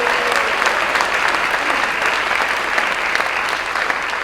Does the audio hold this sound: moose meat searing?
no